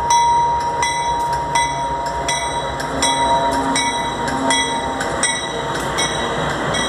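A train rolls past up close and loud, wheels clicking in a regular rhythm over rail joints beneath a constant metallic rumble.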